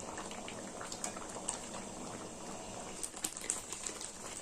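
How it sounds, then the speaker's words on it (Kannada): Thick tomato sauce bubbles and pops steadily in a pan on high flame, a soft continuous boil with occasional louder plops, no voices. "ಐ ಫ್ಲೇಮಲ್ಲೇ ನಾವು ಕುದಿಸ್ಕೊಳ್ಬೇಕಾಗತ್ತೆ"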